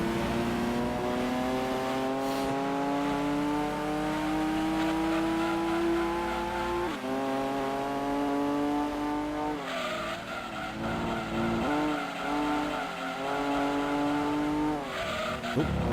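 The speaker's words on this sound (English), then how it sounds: "Big drift for the Datsun." A Datsun drifting in the racing game Gran Turismo 2: a loud, steady engine drone rises and falls through gear changes while sustained tire squeal runs over it, with the pitch shifting as the car slides.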